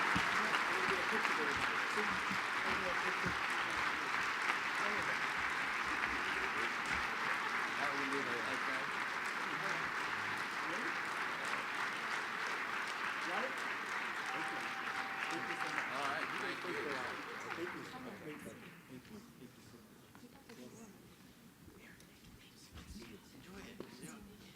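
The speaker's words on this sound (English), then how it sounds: "let's give them a great round of applause" Audience applause at a leadership forum rally on Capitol Hill, a broad sustained crowd clapping that holds steady for most of the stretch, then thins and fades into quieter room noise with some murmuring voices near the end.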